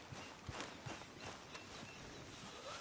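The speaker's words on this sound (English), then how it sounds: "I'll take his horse." A horse's hooves clip-clop at a steady walking pace, loud against a constant background wash of noise, with no voices.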